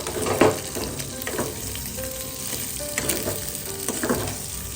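Capsicum frying in a pan, fried until well browned, giving a steady close sizzle broken by several soft scraping stirs at intervals, moderately loud with no voices.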